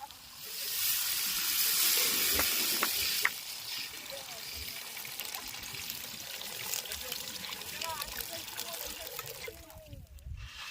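Water poured into a pan while cooking egg pakoda, a steady splashing pour near the mic for the first three seconds, then a softer trickle and clatter continuing under a noisy kitchen background.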